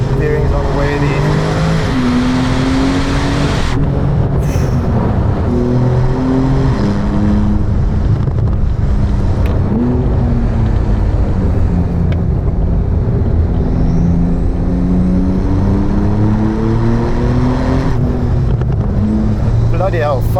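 Techart GTstreet R supercar accelerating hard, a loud, close engine roar heard from inside that climbs in pitch through each gear and drops briefly at every upshift, repeated several times over the run.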